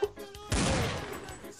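A single gunshot from Counter-Strike 1.6 cracks out sharply after a short pause, then decays with a brief rattling tail, fairly loud against quiet game background.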